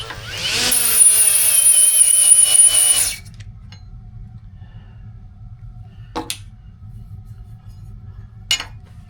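A 3M bristle disc spun on a power tool abrades aluminum with a loud high whine for about three seconds, then stops, leaving quiet background hum and a couple of brief clinks.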